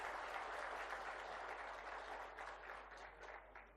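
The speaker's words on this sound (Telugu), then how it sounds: "మనందరం కూడా పెద్ద ఎత్తున చప్పట్లతో వారిని అభినందించాల్సిన" Faint, distant audience applause at a political speech, with a continuous patter of many hands that fades slightly toward the end.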